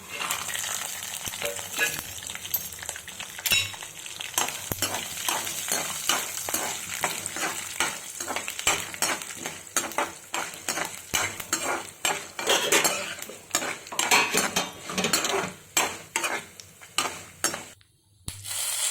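Urad dal, cumin seeds, cashews and peanuts sizzle steadily in hot oil in a pan, with a spoon scraping and stirring against the metal in frequent clinks throughout.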